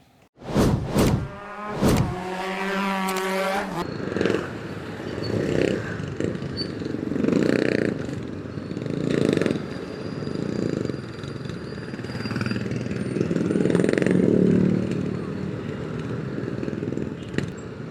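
Motorcycle ride with an Arai Rapide Neo helmet on: a loud, steady engine and wind rumble that rises and falls in surges, after a few sharp revving pulses at the start.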